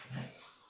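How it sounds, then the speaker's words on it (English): A brief, close dog sound, a breathy whimper or snort lasting under a second. "You can hear that. That is our favorite dog, Roman."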